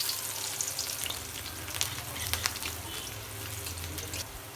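Onions and a few cumin seeds sizzle loudly in hot oil, a continuous crackling fry with occasional sharper pops and soft stirring, no voices over it.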